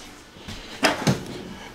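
A storage drawer in a 2021 XLR Boost 36TSX16 RV toy hauler is pulled open. It gives two quick, close clunks in a row, then a faint rattle in an otherwise quiet room.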